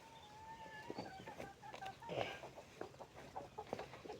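Chickens cluck and chatter in short, irregular calls, several birds close by in a vegetable garden with soft outdoor background noise.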